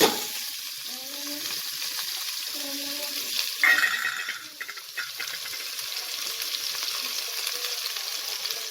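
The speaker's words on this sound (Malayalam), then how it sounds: "ഉലുവ ഒന്ന് പൊട്ടി വരുമ്പോൾ നമുക്ക് അതിലേക്ക് സവോള ഇട്ട് കൊടുക്കാം" Continuous hissing sizzle of fenugreek seeds frying in hot oil, a brief louder crackle midway as sliced onion is added, with faint stirring; no one speaks.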